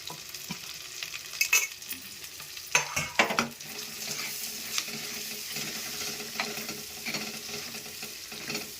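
Onions and green chilies frying in oil in a pan, stirred with a spoon: a continuous hiss and sizzle broken by several scraping, clattering stirs against the pan, moderately close.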